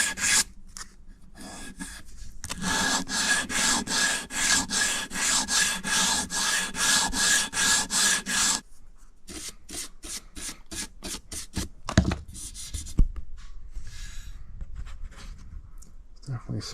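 A file worked back and forth in the scalloped fret slots of a stripped guitar neck, fast rhythmic rasping strokes close up in two bursts, then quieter scraping and a couple of knocks.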